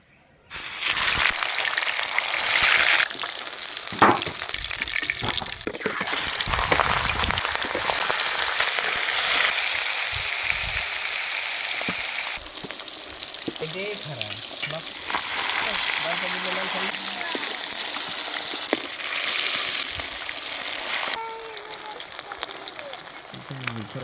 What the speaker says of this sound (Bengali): সব প্রথমে মাছের মুড়োগুলো ভেজে নেব